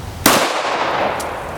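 A single sharp gunshot from an FN Five-seveN pistol with a 5.4 inch barrel firing SS197 ammunition, loud and close, followed by a brief ringing decay and a faint second click.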